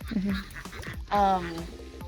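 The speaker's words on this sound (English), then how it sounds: "you can take a picture of the ducks enjoying their pool." Ducks on a small farm quack around their pool in short nasal calls, one loud close burst among softer ones, with people talking nearby.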